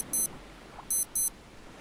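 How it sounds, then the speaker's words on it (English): A wristwatch in the survival game Stranded Deep sounds a repeated warning: three short, shrill electronic beeps, the second and third close together, clear over faint ambient background. "It just beeps over and over again."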